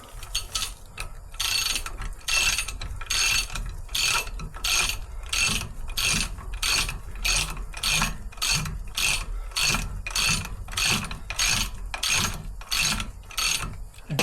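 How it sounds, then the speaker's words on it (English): Torque wrench ratcheting while tightening bolts on a Land Rover Defender TD5 rear axle, rapid regular clicks in steady bursts, close and loud. "And then we can torque this one back up."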